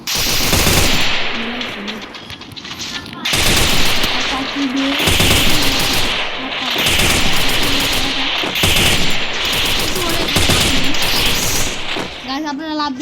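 Shooter video game gunfire in bursts, loud and close, running almost continuously with short gaps and a voice talking over parts of it.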